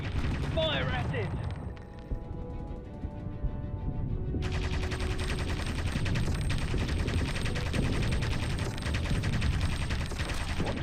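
Rapid machine-gun fire aimed at an enemy plane in the flight game Aviators. A steady, loud stream of dense bursts begins partway through and continues to the end over engine-like background noise.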